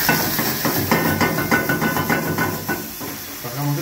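Bacon and ham hiss and sizzle loudly in a pan as broth is added for fettuccine Alfredo, steam and bubbling close up with rhythmic stirring clatter, while someone talks over it.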